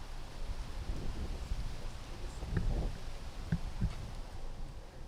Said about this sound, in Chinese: 我们将微风的环境音效加入其中